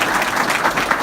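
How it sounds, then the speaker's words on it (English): Short, loud burst of audience applause at a talk about college football coaching, dense clapping filling the whole moment. "I'll give that a clap"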